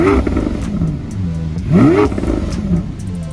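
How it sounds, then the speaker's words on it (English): A supercar engine revs in short surges, a throaty roar climbing and falling in pitch a few times, loud and close, with no one talking over it. "Manny, give it a little rev again."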